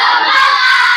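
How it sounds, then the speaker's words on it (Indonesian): Classroom children shout together in a loud, dense burst of voices and clapping, sounding like a group chant at close range for about a second. "Kita tepuk semangat dulu ya. Tepuk semangat."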